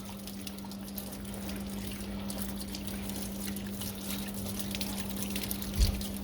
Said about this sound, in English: you just kind of rinse it out back with some clean water